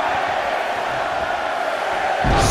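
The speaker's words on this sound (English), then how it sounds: "Listen to this crowd count the next one in." A large arena crowd in the WWE 2K24 wrestling game roars steadily, a continuous loud wash of voices that swells at the end.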